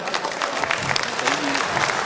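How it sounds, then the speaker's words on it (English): An anniversary dinner audience gives a guest of honor a round of applause, a loud, dense, sustained clapping with faint crowd murmur beneath. "Can we give him a round of applause otherwise?"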